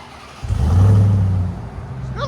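A 2022 Ram TRX pickup on its stock exhaust gives one short rev, a deep rumbling burst that swells quickly, holds for about a second and falls back to a low idle, heard close.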